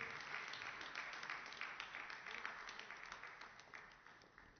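Steady audience applause for a second-place winner at an award ceremony, many hands clapping in a dense, even patter that slowly tapers off, heard at a distance and fairly quiet.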